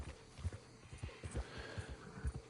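Horse hooves clip-clop at a steady walking rhythm in the video game Red Dead Online, soft and fairly quiet with a faint ambient bed behind them.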